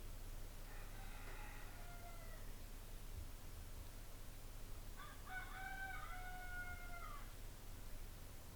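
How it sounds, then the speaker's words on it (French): A rooster crows twice in a garden, with a shorter call early and a longer, louder one around the middle. Both calls sit over steady low background hum, and no voices are heard. "Nous voyons sur cette nouvelle séquence un coq"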